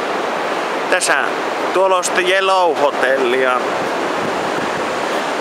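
Ocean surf rolls steadily onto the sandy beach at Monte Gordo, a constant broad wash of breaking waves heard under someone talking close to the microphone.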